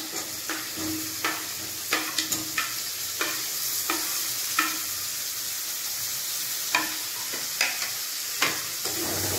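Chopped tomatoes are stirred into frying mutton masala, a steady oily sizzle punctuated by regular scraping knocks of a spatula against the pan, close up with no talking.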